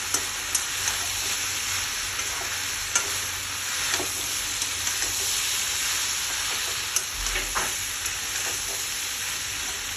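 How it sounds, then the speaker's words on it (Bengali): Mixed vegetables for shukto fry in a pan with a steady loud sizzle, punctuated by occasional clinks and scrapes of stirring, with no talk. "সবজিটা আমার ভালোই ভাজা হয়ে গেছে।"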